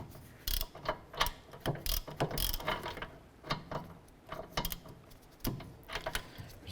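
A ratchet tightens a bolt on a 2008–2012 Honda Accord rear wheel hub, giving repeated close bursts of rapid clicking with short pauses between strokes and no talking.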